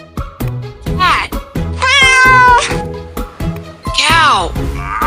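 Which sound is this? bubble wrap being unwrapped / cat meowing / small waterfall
cat meowing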